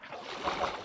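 Water pouring out of a bucket in a video game, a short sloshing splash of under a second that swells in the middle, heard alone with no talk.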